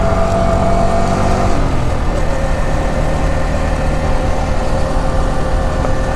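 Dhaka city street traffic rumbles continuously, with car and heavy vehicle engines idling and moving close by in a dense, steady roar.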